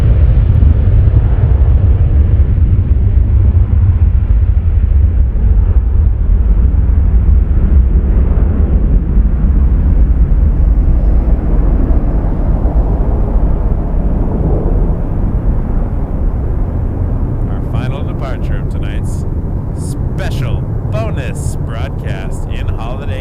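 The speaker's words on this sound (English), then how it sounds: "Here's a 330 departing, headed to Amsterdam." Airbus A330 jet departing Toronto Pearson airport for Amsterdam, a loud, steady low roar of engines dominating throughout, slowly easing off toward the end while faint crackling ticks appear.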